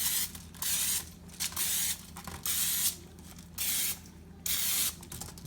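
Several short bursts of cooking spray from an aerosol can, each hissing for about half a second with brief pauses between, close and fairly loud.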